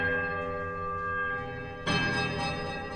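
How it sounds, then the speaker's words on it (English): Three temple bells in Pillars of Eternity ring out with sustained, layered metallic tones, gentle at first, then swelling into a louder, denser clash of discordant overtones in the second half. "There's a quiet melodic charm from all three bells before their discordant voices meet in one powerful rushing rush of sound."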